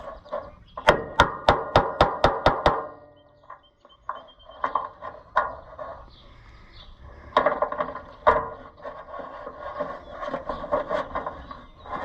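A rapid run of sharp hammer blows on metal rings out up close while parting out an Oliver 880 tractor, followed by scattered knocks, clanks and a few more strikes amid workshop handling noise.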